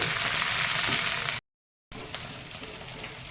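Fenugreek seeds frying in hot oil: a dense, even, crackling sizzle heard close up, cut by a brief moment of total silence before the sizzling resumes at the same level, with no talk.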